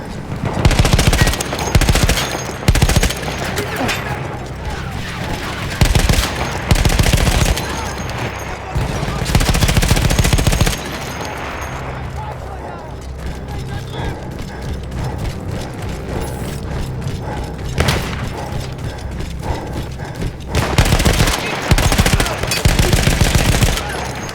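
Bursts of automatic fire from an Austro-Hungarian machine gun in the video game Battlefield 1, loud rattling volleys repeated in several long strings with brief pauses and mechanical clatter between them.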